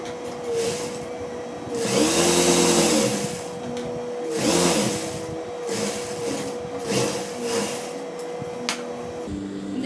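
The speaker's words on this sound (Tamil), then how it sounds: "அதுக்கு மேலேயே நம்ம ஸ்டிச் பண்ணிடலாம்." A sewing machine stitches a chudidar seam in several whirring runs of varying length, close and fairly loud, with short pauses between bursts and no talk.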